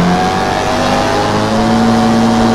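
A rally car engine in the WRC 3 FIA World Rally Championship racing game drones loudly and steadily, with sustained revving tones that hold throughout, close and dominant with no other sound.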